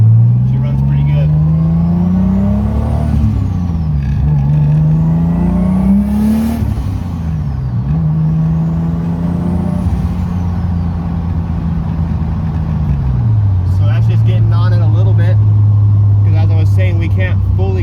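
A 600HP MK3 Toyota Supra with twin disc clutch runs loud and close while driving, its engine note climbing and falling through several gear changes, then settling into a steady drone with some background speech.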